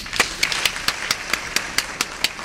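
Audience clapping at a Greek 101 panel, a sparse steady patter of separate claps from a few hands at a moderate, even rhythm with no talk over it.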